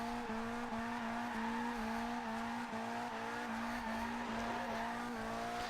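A Mazda MX-5, front-engined and rear-wheel-drive, spins donuts in the racing game Forza Horizon 2. Its tires squeal continuously in a wavering, repeating howl over the engine note, with no talking.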